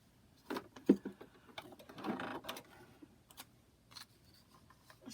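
Home sewing machine running short stitch bursts at a reduced 1.5 length across a foundation paper pieced cricket butterfly charm quilt block, with soft clicks and handling noises between runs, fairly quiet and close.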